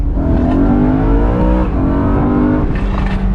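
A 2011 BMW E93 M3 engine drones loudly and steadily, then blips and drops in pitch as it downshifts, with a sharp pop near the end.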